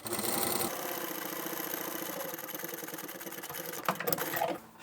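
A sewing machine stitches a tote bag seam in one continuous, close mechanical whir, with a short change in pitch where the stitching stops and backstitches, then a few clicks and handling noises at the end.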